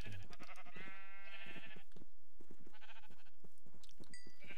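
Minecraft sheep with the Pixelmon modpack bleating several times, loud and close, each bleat a wavering cry, over a busy game soundscape with a few short effects.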